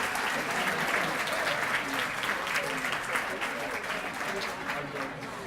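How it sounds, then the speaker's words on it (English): Audience applause fills a hall at the Cesar Chavez Awards 2018, a Hispanic excellence scholarship and community awards night: dense, steady clapping from a large crowd, loud and sustained throughout. "Give yourselves a round of applause for making it out here tonight"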